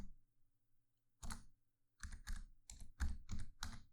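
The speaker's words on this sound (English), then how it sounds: "Click on this text and let's type in the text," Keys on a computer keyboard are typed in a short, quiet burst of crisp clicks: a single tap, then a quick run of about six keystrokes close up, with no voices.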